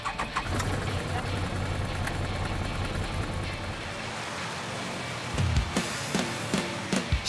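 An ATV engine cranks and catches, then idles and revs in uneven bursts near at hand, with people talking over it outdoors.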